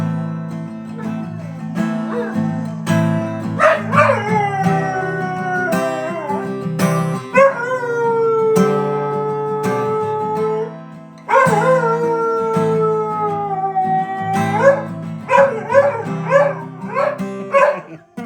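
A dog barks and howls loudly and close, drawn-out wavering howls broken by sharp barks and yips, repeating over a steady backing of music.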